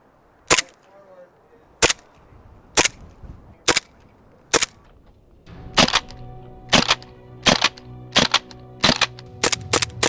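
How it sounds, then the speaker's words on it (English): A full metal gas blowback 1911 airsoft pistol fires about fourteen sharp, loud cracks outdoors, slowly spaced at first and then quicker, with the later shots over a steady background hum. "This is my full metal gas blowback 1911."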